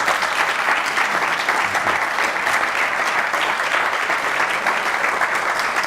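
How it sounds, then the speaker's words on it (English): Steady, dense applause from a lecture audience at an architecture lecture series, loud and sustained throughout with no talking. "Then let's get Jodi and Andrew a round of applause"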